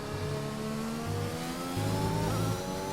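An F1 2021 video game car on the Mexico track accelerates with a loud, steady high-pitched engine whine, the revs climbing and dropping through short gear shifts.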